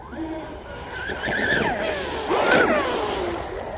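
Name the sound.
electric RC boat motor with three-blade prop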